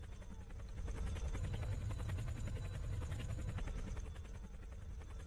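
Steady helicopter rotor and engine drone from the flight video game Emergency Landing, a continuous, even whir with a faint rhythmic beat, fairly quiet throughout.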